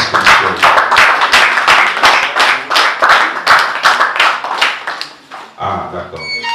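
A church congregation claps together for the Lord at a consecration worship service, rhythmic loud handclaps in a steady beat for several seconds, with voices mixed in and a brief pause near the end.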